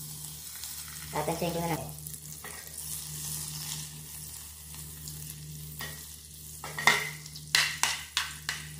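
Butter melts in a pan for a pasta sauce, hissing in a low sizzle. A brief spoken phrase sits over it, and sharp stirring scrapes and clinks follow toward the end, close to the listener.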